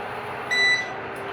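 A stove being switched off gives a single short electronic beep, clear over a steady hum, lasting about a third of a second.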